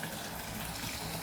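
Water runs steadily into a bathtub, a continuous broadband rush heard close and alone for the whole moment, with no voices.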